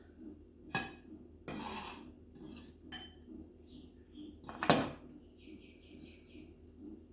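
Spring onions go into a pan amid quiet, scattered clinks and scrapes of a utensil against metal, a few louder knocks standing out in a mostly hushed kitchen.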